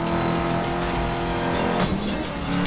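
A car accelerates hard in Need For Speed Most Wanted, its engine note climbing steadily in a dense, continuous drone, with a brief shift in pitch near the end.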